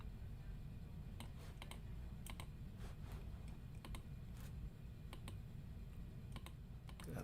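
Mouse clicks in 3D modeling software, quiet sharp single and double clicks scattered irregularly over a steady low hum, with no talking.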